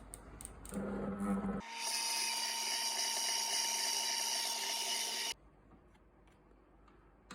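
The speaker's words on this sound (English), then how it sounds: "And now we just mix this into a batter" An electric beater whirs steadily for a few seconds through feijoa muffin batter, loud and close, then cuts off abruptly, with a few knocks before and quiet room noise after.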